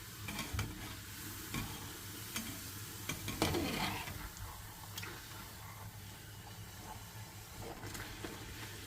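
Bread-slice bhaturay deep frying in hot oil, a steady low sizzle and bubbling with occasional soft clinks and stirring taps, close and fairly quiet with no talking.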